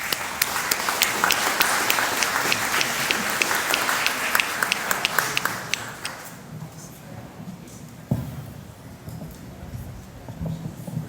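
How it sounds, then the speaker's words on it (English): A short round of applause from the audience at a community consultation meeting on a complete streets project, dense clapping for about six seconds before it fades into quieter room noise and a few stray sounds. "A short round of applause."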